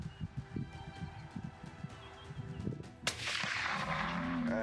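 A single gunshot rings out outdoors during a wild buffalo and boar hunt, a sharp crack followed by a sustained wash of noise, after a stretch of quieter rustling and low thumps.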